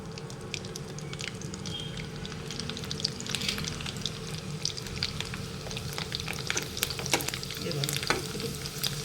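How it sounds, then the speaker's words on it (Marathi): Sabudana potato chakli deep frying in hot oil: a dense, continuous bubbling sizzle with scattered crackling pops, close and fairly quiet, with no talking. "आता लाल चटणीच्या तुम्हाला तळून दाखवते"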